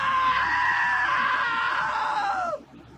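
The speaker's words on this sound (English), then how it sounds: "that was a great scream" A long, high wavering scream from the video game What Remains of Edith Finch, sustained for about two and a half seconds before cutting off abruptly, heard alone.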